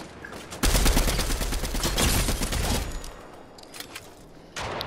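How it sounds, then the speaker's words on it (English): Rapid bursts of video game gunfire, dense crackling volleys in two long runs with a brief gap and a short final burst, fairly loud and close. "Oh, I'm getting shot at."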